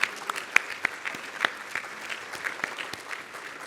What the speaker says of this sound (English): give a quick round of applause to the dining services staff for such a wonderful lunch